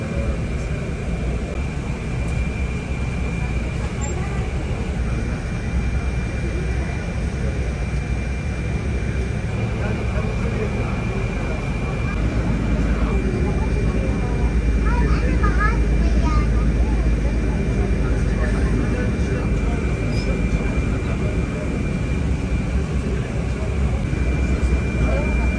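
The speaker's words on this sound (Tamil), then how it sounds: "இப்போ நான் அசர்பச்சான் போகிற ஃப்ளைட்டை போயிட்டு பார்ப்போம்." Aircraft engines at an airport before a flight to Azerbaijan, a steady loud drone filling the whole stretch and swelling slightly midway, with muffled voices and activity nearby.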